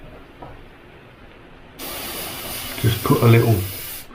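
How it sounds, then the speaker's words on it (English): Airbrush spraying paint: a sudden steady hiss starts partway through and holds until near the end, while a person talks over it up close. "Go in with your airbrush and just dust over round them pieces."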